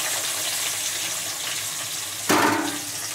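Vegetables for fried rice sizzle steadily in a hot pan, with a sudden louder hiss partway through as more food hits the oil, close and without talk.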